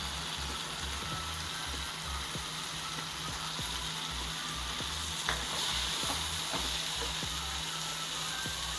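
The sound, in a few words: sautéing spice powders in pan for fish curry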